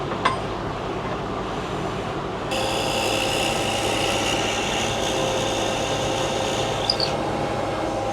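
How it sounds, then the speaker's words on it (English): A power drill bores into a wooden bowl made for dolls. The motor whines steadily and fairly loudly for about five seconds over a low workshop hum, then cuts off. "I want to drill in a little bit just to get the depth that I want it to go"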